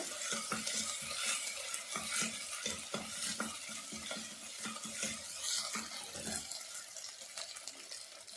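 Garlic, ginger and green chilli fry in a pan for a red snapper curry, a bright, continuous crackling sizzle broken by repeated scraping strokes of a spoon, close and moderately loud, with no voices.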